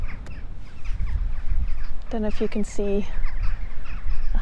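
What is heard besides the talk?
crows cawing at Avebury stone circle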